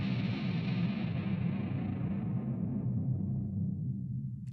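A thick, buzzy synthesizer tone with a filter sweep closes steadily over a few seconds, its bright edge dulling into a dark, rumbling low end. Heard alone and fairly loud.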